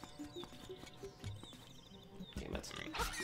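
Pig enemies in the video game Link's Awakening grunt and snort amid game sound effects and music, a busy cluster of short growling noises at moderate loudness.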